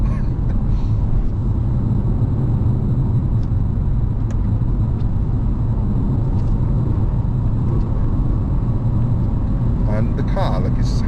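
Steady loud engine and road rumble from a Vauxhall VXR8 GTS driving over a bumpy, undulating road in the Welsh Brecon Beacons, a continuous low drone with a few faint clicks and knocks.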